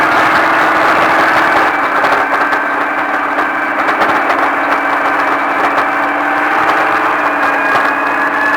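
A steady off-road vehicle engine drones under power with a continuous tonal whine and slight pitch shifts, loud and near, with no pauses across the run.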